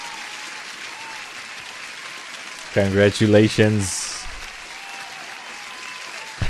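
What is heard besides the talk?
applause for a birthday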